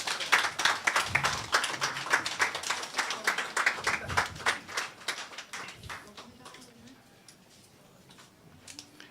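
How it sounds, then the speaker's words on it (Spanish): A congregation claps during a Spanish-language worship service, a lively burst of many hands with distinct sharp claps that gradually fades away, then leaves a quiet hall with a few faint sounds. "Denle un aplauso al Señor, claro que sí."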